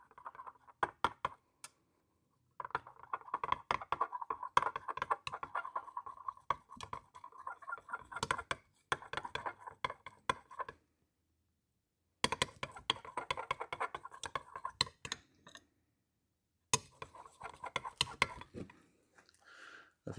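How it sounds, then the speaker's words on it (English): A colorantless plastisol bait mixture is stirred by hand for a homemade fishing lure, giving close, irregular bursts of light clicking and tapping that stop and start with short silent gaps. "I'm going to stir it up, see what's up."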